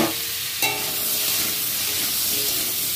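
Potatoes and pumpkin fry in hot oil in a pan, giving a steady dense sizzle, with a sharp scrape of stirring near the start, all close and continuous.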